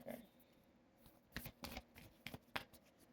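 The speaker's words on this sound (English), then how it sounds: "Sometimes these cards are annoying to shuffle." Tarot cards being shuffled by hand, quiet and close, in a run of short riffling bursts with pauses between them and no talking.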